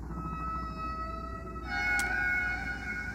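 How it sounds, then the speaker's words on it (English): Humpback-style whale song from an early-1970s underwater recording: long sustained tonal cries with a sliding pitch shift midway and a brief bright click, set against a constant hiss of ocean background noise. "Frank Watlington and Roger Payne's work, connecting these to the singing whales"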